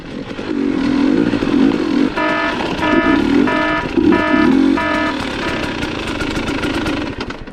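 Beta XTrainer dirt bike with an AMP damping setup climbing a hill off-road: loud continuous engine drone that rises and falls with throttle, with pulsing rev surges, recorded close on the bike. No talking.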